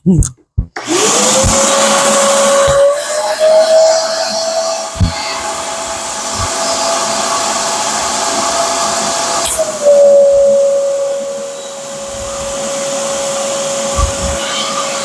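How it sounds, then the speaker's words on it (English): Vacuum cleaner motor whirring loudly and steadily while sealing a bedspread in a storage bag, its tone shifting in pitch as the bag compresses, with occasional clunks and handling noises. "It's one of those super cool effects when the vacuum seals it."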